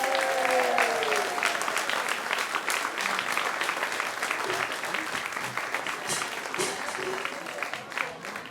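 Audience applause for a performer at an evening music show, a steady, dense wash of clapping that carries on throughout, with some voices and cheering mixed in.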